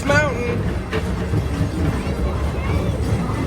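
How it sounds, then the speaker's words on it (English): Riding the Tomorrowland Transit Authority PeopleMover at Disney gives a steady rolling rumble with a soft mechanical hum, close and continuous beneath excited talking from riders. "Yeah, there's the train."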